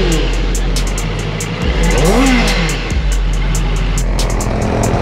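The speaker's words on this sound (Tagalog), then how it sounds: "So ito na po siya, QJ Motor 600RR." A brand-new QJ Motor 600RR with a 600cc inline-four engine revs up close, a loud steady idle rising into a sweeping rev and falling back, with sharp repeated blips layered over the drone.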